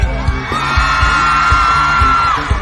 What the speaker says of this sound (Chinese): 等一下我指到哪边哪边就大声尖叫好不好